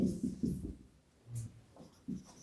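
A teacher writing notes on a board during a Hindi biology lesson on DNA, short scratchy strokes in uneven bursts, faint and close, between stretches of quiet.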